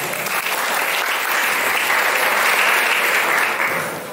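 A hall full of people at a youth political school event applauding the KNPI regional youth committee, a dense, continuous wash of clapping that swells slightly and fades near the end.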